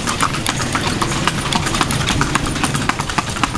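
Horse pulling a kalesa, hooves clip-clopping in a brisk steady rhythm on pavement, loud and close throughout.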